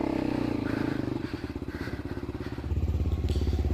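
An enduro dirt bike runs loud and close on an off-road trail, its engine chugging in a steady pulsing rhythm that swells toward a heavier throttle near the end.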